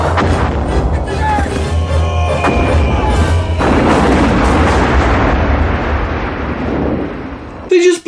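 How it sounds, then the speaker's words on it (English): A rocket launcher explosion from the 1993 horror film Jason Goes to Hell: The Final Friday, a loud sustained roaring blast with rumbling debris that slowly fades and ends in a sharp cut. "They just blew Jason up with a rocket launcher."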